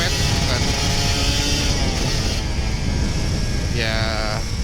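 A loud, continuous buzzing two-stroke engine of a Kawasaki Ninja RR 150 sport motorcycle revving and droning nearby, pitch shifting as it accelerates, with no pauses.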